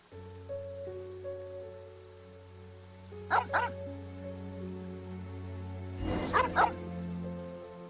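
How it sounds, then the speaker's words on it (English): Dog barks from a Genshin Impact game scene near a cemetery, two short clusters of yelps heard apart over steady sustained music and a soft rain-like hiss. "Why are you barking at the cemetery?"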